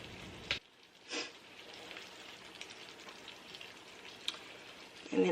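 Steady sizzling of cooked shrimp being reheated in a pan for shrimp scampi, a soft continuous crackle with a couple of brief louder bursts.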